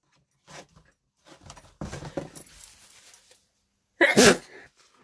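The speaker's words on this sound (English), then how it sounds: "I've got a sneeze coming on." A single sharp sneeze bursts out loudly near the microphone indoors at a card-making desk, preceded by softer breathy sounds and small rustles.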